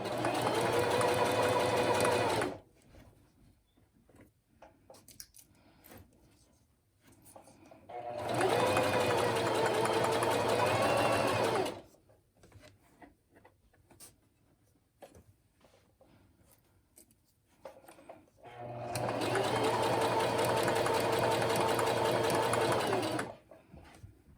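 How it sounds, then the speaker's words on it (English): A sewing machine stitches a fabric zipper pouch in three loud, steady running bursts, with quieter pauses between them where a person talks. "Now I'm just going to sew down this side here."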